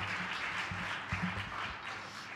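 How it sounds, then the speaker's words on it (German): Faint applause from a church congregation greeting a preacher, a soft diffuse patter of clapping with some low thumps underneath. "Wollen wir einen großen Applaus geben für den Timon."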